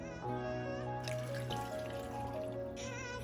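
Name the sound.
water pouring into blender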